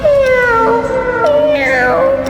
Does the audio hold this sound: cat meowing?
yes